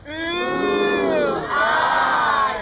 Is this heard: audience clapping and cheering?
yes